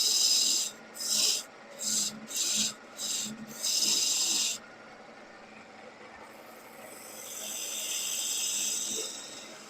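A wood gouge cuts into a spinning workpiece on a lathe in a run of close, rasping bursts with short gaps between them, followed by a steadier, softer scraping hum.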